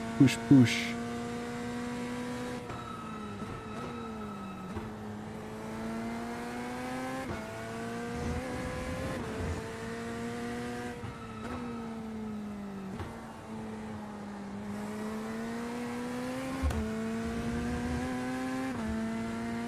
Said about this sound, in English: Maybe it's me, but I actually kind of like the way this car sounds.